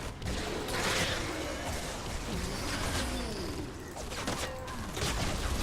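Rapid bursts of gunfire from a line of bullets in Fortnite during a storm shield base defense, dense and continuous over busy game noise with crashes and whooshes throughout.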